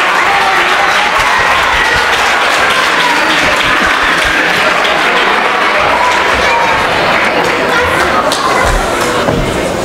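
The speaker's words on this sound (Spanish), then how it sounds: "¡Qué gran aplauso acaba!" A large audience at a science awards gala applauds an award presentation with continuous, loud clapping and a wash of crowd noise and cheering, steady for the full ten seconds with voices mixed in.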